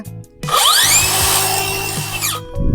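A Tanzu TZ C 5050 cordless 7-inch brushless circular saw spins up with a rising soft-start whine, runs at a loud steady single-speed pitch for about two seconds, then winds down.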